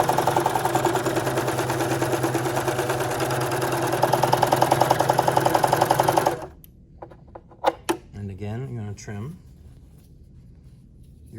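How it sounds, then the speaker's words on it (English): Serger sewing machine running fast along two fabric edges to seam them, a steady close mechanical whir for about six seconds that stops abruptly, followed by a few clicks and handling noises while a person talks. "we're just gonna sew down 1 edge to seam them together with the serging"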